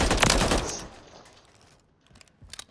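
Holger 556 rifle fire in Warzone: a loud, rapid automatic burst right at the start that trails off into quiet, then a few sharp shots return near the end.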